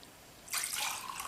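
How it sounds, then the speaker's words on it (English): Homemade coconut milk made from dried coconut pours into a glass, a faint, brief splashing liquid stream starting abruptly after a quiet moment. "Actually, pour it into a glass so you can see."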